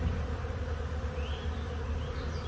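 A honeybee swarm buzzes around a large hive during a swarm catch in Tonti, Illinois. It is a dense, continuous droning hum, close and steady, with no voices.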